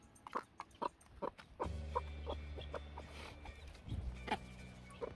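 Repeated short, high cheeps from chicks come in quick bursts close by, with a low hum appearing partway through.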